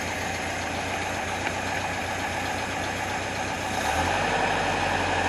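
A 1977 Toyota Celica engine idling close by with a steady, slightly knocking rumble that shifts to a deeper, more even tone partway through.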